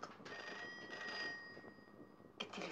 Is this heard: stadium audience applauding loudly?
no